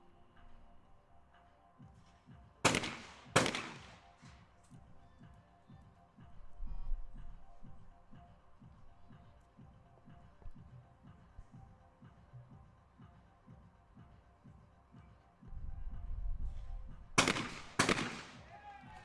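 Shotguns fire during a women's junior skeet team event at a European championship in Leobersdorf, Austria, with sharp distant reports in quick pairs, early and again near the end, under a background of faint ticking and crowd murmur.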